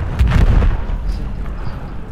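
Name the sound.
artillery cannon fire in a video game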